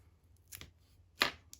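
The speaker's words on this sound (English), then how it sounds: "We'll just snip that off." Scissors snip a small pinch of deer hair while a deer hair emerger fly is being tied: two short, crisp cuts, the second louder, close by and quiet, with no talking.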